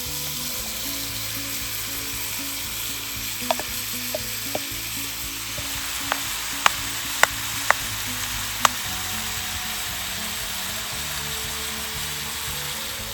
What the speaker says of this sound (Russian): Теперь закидываем овощи. И главный секрет, их надо жарить очень быстро,